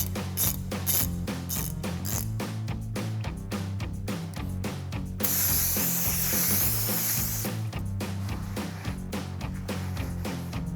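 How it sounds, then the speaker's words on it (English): A ratchet with a T30 Torx socket tightens a set screw during brake rotor and pad work on a Jeep Gladiator JT, giving rapid, close clicking strokes in a repeating rhythm with a brief hissing spray-like burst midway. "Take your T30 torque socket and tighten that down."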